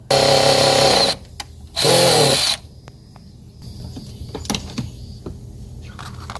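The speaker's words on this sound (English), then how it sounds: "So I'm gonna have to drill it out." Two short, loud bursts of a power drill spinning as it drills out a broken clip by the front turn signal of a 1996-2000 Honda Civic, followed by quieter clicks, scrapes and handling noises nearby.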